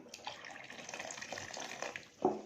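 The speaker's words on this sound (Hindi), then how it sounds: "अब आहिस्ता आहिस्ता ये कॉर्नफ्लोर मिक्स किया हुआ पानी इसके अंदर डालेंगे" Cornflour-mixed water pours slowly into a pot of beef nihari, a soft, quiet trickle of liquid that ends in a brief louder splash near the finish.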